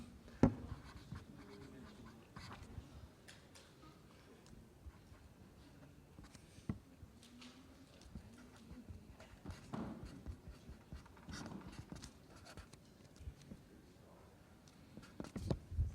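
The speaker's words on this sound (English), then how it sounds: "Okay, so let me write this down." Pen or marker writing out a maths derivation on Leibniz's rule for differentiating under the integral sign, with short scratchy strokes and taps at an irregular pace, fairly close and quiet, with no talking.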